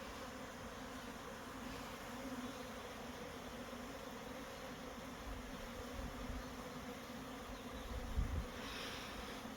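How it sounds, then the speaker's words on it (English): Honey bees hum in a dense, continuous buzz around an active Layens horizontal hive, steady throughout with individual bees passing closer now and then. "bees go crazy"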